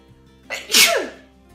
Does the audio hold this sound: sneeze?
yes